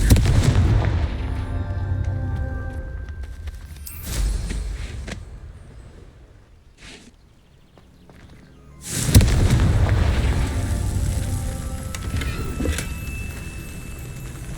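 Repeated Confringo fire spells cast in the video game Hogwarts Legacy, with loud booming explosions, one burst at the start, a smaller one midway and a big blast later that trails into rumbling debris.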